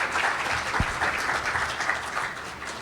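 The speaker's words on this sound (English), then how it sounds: "Round of applause for Miss Adela Peterson." Applause from an audience at a women's award event fills the room, a steady dense patter of many hands clapping without pause, moderately loud and alone.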